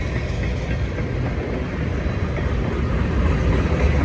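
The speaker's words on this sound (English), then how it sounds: "That was a fast little train." A BNSF freight train rolls past at Blue Cut in Cajon Pass, a steady, loud, broadband rumble of wheels and cars that holds constant and swells slightly toward the end, with no talking.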